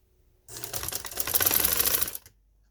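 A sewing machine stitches a trouser in one steady rattling run of about two seconds, starting and stopping abruptly, close and fairly loud.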